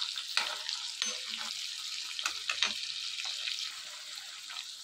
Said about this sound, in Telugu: ఇలా ఎండు చేపలన్నీ వేసుకుని ఇవన్నీ కూడా కర్రీలోకి వచ్చేంత వరకు కూడా ఇవన్నీ బాగా వేయించుకోవాలి